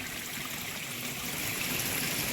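Water flows steadily down a stream during the first monsoon rain in Konkan, a continuous broadband rush with no breaks, moderately near and alone.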